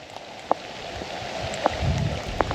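Rain falls steadily outdoors at a summer carp-fishing spot, a soft continuous patter with a few sharper drop hits standing out, no talk over it.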